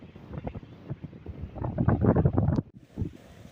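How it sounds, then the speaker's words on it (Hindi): Gusty wind blowing by the sea buffets the microphone in uneven, rumbling bursts that swell and fade, close and fairly loud, with no speech. "यहाँ पर जो है हवा चली हुई है और समंदर में"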